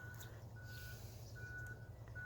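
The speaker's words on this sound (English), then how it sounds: "So the beeping that you hear is another farm working on their property too." Faint, distant reversing beeps from farm machinery, sounding in a steady repeating pattern over a low engine rumble.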